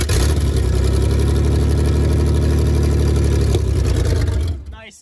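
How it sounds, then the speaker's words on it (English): A 1995 Ford Ranger engine runs with no exhaust fitted, a loud, steady, raw mechanical roar close by for about four and a half seconds before it cuts off abruptly. "There is no exhaust either."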